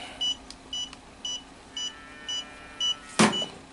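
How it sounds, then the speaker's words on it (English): An electronic unit near a John Deere 420 mower beeps six times in a steady, evenly spaced rhythm, then lets out one louder crackling burst. "What are you beeping about?"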